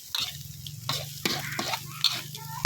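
Sweet preserved radish and egg are stir-fried in a hot pan, giving a soft sizzle broken by several sharp scraping strokes of a spatula against the pan, close and fairly quiet.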